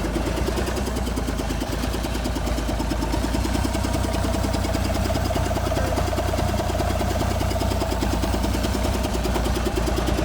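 A Versatile 895 tractor engine idles steadily and close by at about 200 RPM, a continuous low rumble with an even, rapid knocking pulse that never changes pace.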